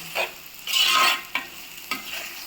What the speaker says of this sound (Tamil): இப்போ இந்த வெங்காயம் தக்காளி நல்லா வதங்கணும்.